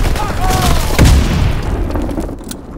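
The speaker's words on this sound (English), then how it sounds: "Fritz X bombing mission ready" Fritz X guided bomb explosions in Call of Duty WWII multiplayer, a loud heavy boom rolling out near the one-second mark amid dense battlefield noise and brief radio-style voice.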